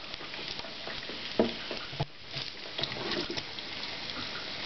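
Bacon frying in a pan, a steady crackling sizzle with scattered sharp pops and a couple of louder clatters as strips are turned, close and continuous throughout.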